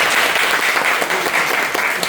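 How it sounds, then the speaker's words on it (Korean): Applause for CEO Kim Seon-ho at a small-business CEO forum held in a Daejeon restaurant: close, steady clapping from a room full of people, even and uninterrupted throughout. "우선 김선호 대표님한테 박수 한번"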